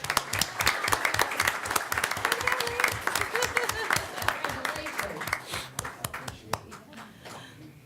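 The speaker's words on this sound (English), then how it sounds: "A clap, of course." Crowd applause at a city commission meeting, many hands clapping steadily, fairly loud and dense, tapering off toward the end with scattered claps and a voice underneath.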